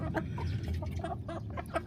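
Four chickens, two White Silkie bantams and two native Korean hens, clucking steadily and close by at a homemade automatic feeder, their short overlapping calls repeating throughout over a low background hum.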